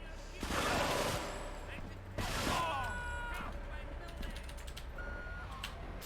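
M16 gunfire in Grand Theft Auto III comes in two loud bursts of rapid shots, followed by quieter mechanical game sounds and faint tones.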